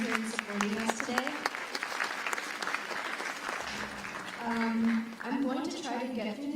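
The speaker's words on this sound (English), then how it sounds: "Can we just have a round of applause for all of you for being here and supporting us today?" Audience applause at a Bharatanatyam arangetram, a steady wash of clapping running throughout with a voice speaking over it.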